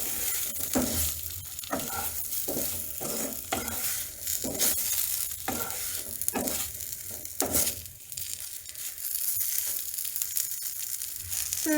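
Eggplant slices fry with spices and amchur powder in a pan, giving a steady loud sizzle broken by repeated scraping stirs at an irregular rhythm. No one talks.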